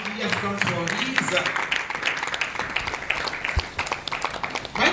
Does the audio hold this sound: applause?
yes